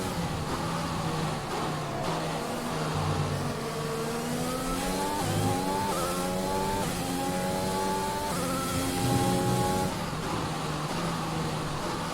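An F1 race car in the F1 2021 video game drives around a circuit, engine droning continuously with rising and falling revs through gear changes, steady and unbroken with no talk.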